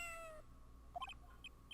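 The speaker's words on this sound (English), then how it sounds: "It sounded like a cat." A cat meows briefly in Phoenix Wright: Ace Attorney - Justice for All, a few short, faint mews that come after a fading electronic tone, with no talking.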